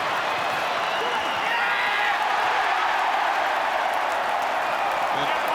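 A big stadium crowd at a Newcastle Knights versus Sydney Roosters rugby league match roars in a steady, loud, broad wash of cheering that holds without a break.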